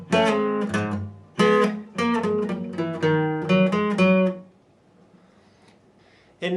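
A guitar plays a modified song intro at full speed, with quick strummed chords and hammered notes in a steady flow, loud and close. The playing stops for about two seconds, then one last chord comes in.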